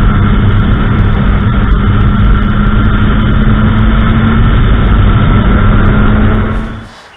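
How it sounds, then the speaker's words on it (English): A BMW S1KR sport motorcycle holds a loud, steady high rev for launch control, a dense continuous engine roar close to the microphone that fades away sharply at the very end. "Rev the bike to 6000. Put the bike in gear. Slowly release the clutch. The best possible acceleration."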